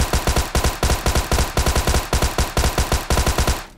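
Sustained automatic gunfire in PUBG Mobile, close and loud, coming as rapid bursts of shots in a tight steady rhythm that run almost without pause, then cut off abruptly near the end.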